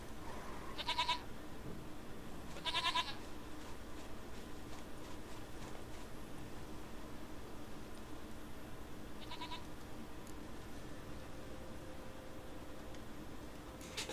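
A goat bleats in The Witcher 3 over a steady, faint outdoor game ambience: two short bleats near the start and another midway, otherwise only background hum.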